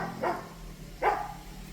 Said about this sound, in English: Enough barking.